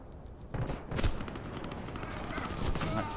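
Gunfire in the Warface video game on PS4: a rapid burst of shots, then continuous crackling fire and rattling under a busy, noisy battle background at moderate distance.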